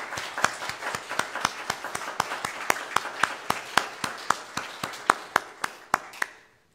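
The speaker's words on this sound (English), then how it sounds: "Can we get a standing round of applause to welcome Larry back home" Steady, evenly spaced claps ring out at a Sunday morning church worship service, about four sharp hand claps per second for nearly seven seconds, close and clear, then stopping abruptly.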